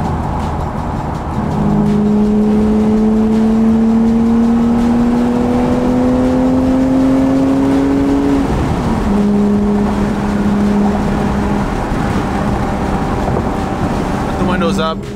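A 20-year-old BMW idles and revs steadily inside the cabin, with a rising tonal engine whine climbing for several seconds before dropping back, continuous and fairly loud under faint background noise.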